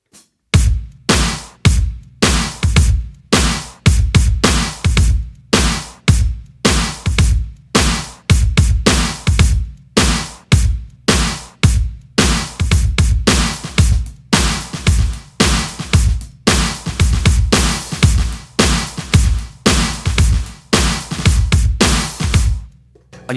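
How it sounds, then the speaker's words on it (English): Punchy drums playing a song's groove, with a big gated-reverb snare cracking alongside kick drum, loud and continuous, no voices. "that's our gated reverb snare sound"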